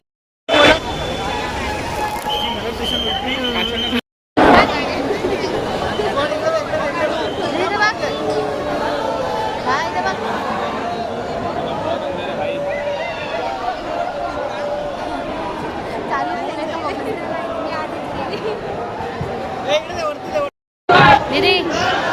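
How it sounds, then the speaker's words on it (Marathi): Dense festival crowd chatter at a decorated bridge during Ganpati darshan, a steady loud babble of many voices with shouts, continuing throughout apart from two brief cuts. "गर्दी बघा, गर्दी गर्दी गर्दी."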